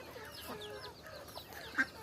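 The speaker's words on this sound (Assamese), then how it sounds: "মই কুকুৰা আনি থৈছোঁ এইফালে চাওক" Chickens kept for sale cluck softly at a farm, with scattered short calls and one louder cluck near the end, fairly faint and without talk.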